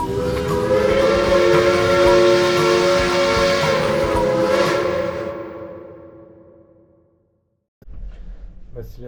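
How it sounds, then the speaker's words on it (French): A tram on a city street in Amsterdam rumbles loudly past with a sustained tonal hum that fades out over a few seconds, followed by a brief silence and then low background noise. "il est beau et chou le tram"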